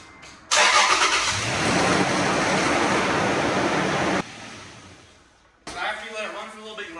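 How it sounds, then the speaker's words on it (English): A car engine cranks and catches after an oil change, then runs at a steady, loud idle for a few seconds before cutting off; a person talks briefly at the end. "go ahead and crank up your vehicle, let it run for 30 seconds"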